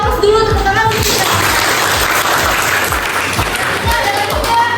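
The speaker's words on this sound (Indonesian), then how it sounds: "Kasih aplaus dulu tepuk tangan untuk Dika." Classmates clap for a student named Dika during a classroom guidance session, a steady mix of hand claps with a teacher's voice speaking over it throughout.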